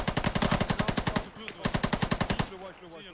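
Machine gun fire in a squad-based war video game: two long, rapid bursts of loud, evenly spaced shots, the second ending in a short gap and fading tail.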